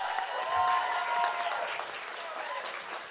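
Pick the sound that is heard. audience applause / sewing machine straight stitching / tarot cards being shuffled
audience applause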